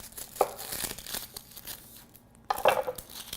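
A knife slicing the end off a raw onion, giving two short crisp crunching cuts about two seconds apart, close and fairly loud with no voices.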